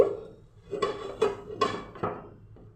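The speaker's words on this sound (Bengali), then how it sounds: "পিঠেগুলি দেওয়া হয়ে গেল এখন ঢেকে দিচ্ছি" A metal lid settles over a pan of mini chitol pitha made with date jaggery and milk, giving four or five light clinks and rattles close by, quiet between knocks.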